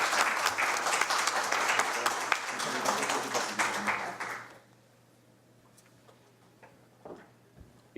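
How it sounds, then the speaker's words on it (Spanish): Audience applause for a doctor at a law institute academic event on environmental rights, a dense burst of clapping for about four seconds that then stops abruptly, leaving quiet room tone with a few faint sounds. "Le damos un aplauso, por favor, a la doctora Lagunes."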